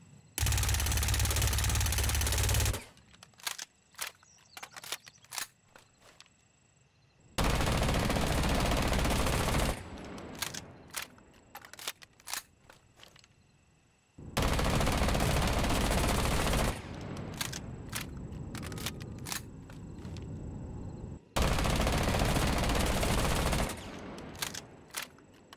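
Ela's Scorpion machine pistol from Rainbow Six Siege fires in four long, loud full-auto bursts of roughly two to three seconds each. Scattered single shots and quieter gaps separate the bursts.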